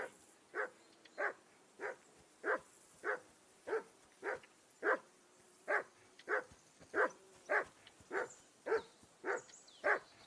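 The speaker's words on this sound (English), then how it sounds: "Call off that mutt of yours!" A dog barks in the medieval game Kingdom Come: Deliverance 2 with a steady string of about fifteen evenly spaced, moderately loud woofs and no other sound in between.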